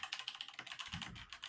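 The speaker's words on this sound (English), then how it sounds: "someone's keyboard is incredibly loud" Rapid, clacky strokes on a loud computer keyboard rattle along in a quick irregular rhythm, close and alone.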